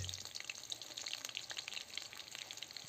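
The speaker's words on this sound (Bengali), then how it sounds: "এরপর পেঁয়াজটাকে খুব ভালোভাবে ভেজে নিতে হবে" Onions frying in hot oil with whole garam masala, cardamom, cloves, cinnamon and cumin in a pan over a clay stove, giving a steady close hiss and crackle with no talk.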